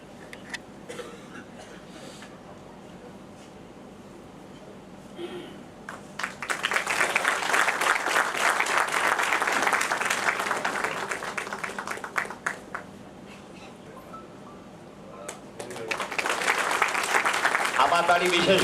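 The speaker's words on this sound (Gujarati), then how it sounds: "આપણે મંચસ્થ સર્વેને" Audience applause welcoming guests onto the stage at an inaugural function, bursting in after a stretch of speech, holding as dense clapping for several seconds, then dipping and rising again near the end.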